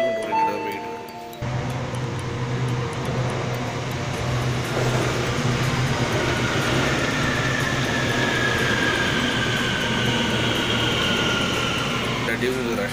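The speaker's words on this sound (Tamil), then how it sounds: "ஷங்காயில் மேக்ஸிமம் மெட்ரோஸ் ஃபுல்லுமே வந்து அண்டர் கிரவுண்ட் ஓட இடம் போயிட்டு" An underground metro train in Shanghai rumbles steadily with a low hum, rising in a long whining tone as it gathers speed, loud and continuous after a brief quieter start.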